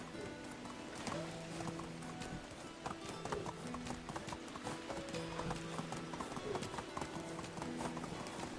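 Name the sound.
horse hooves galloping in the video game Medieval Dynasty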